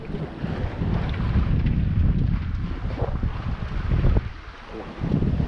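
Strong wind of about 16 to 17 knots buffets the microphone in gusts over a continuous rush of water against a moving sailboat at sea, loud and unbroken throughout.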